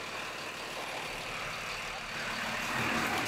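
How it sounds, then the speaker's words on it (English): A Cummins dually diesel pickup fitted with a 4-inch exhaust idles and rumbles steadily, a low continuous drone that swells slightly toward the end. "we have our 4-inch exhaust installed. Looking good, sounding good."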